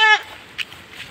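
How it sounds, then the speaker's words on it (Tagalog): A goat bleats once, short and loud and close, at the start, followed by faint scattered background noise outdoors. "Ang daming kambing oh."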